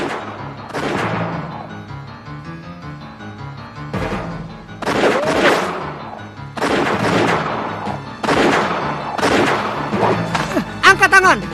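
Repeated bursts of gunfire in a Tintin cartoon, several sharp shots loud over music and background action, with short gaps between volleys.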